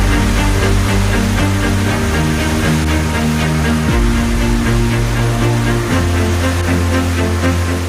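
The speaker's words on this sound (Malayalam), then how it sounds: "ചാലക്കുടിപ്പുഴ പുഴ കുത്തിയൊഴുകുകയാണ്" A loud, constant roar of the flooded Chalakudy River rushing fills the whole stretch. A low mechanical hum runs underneath.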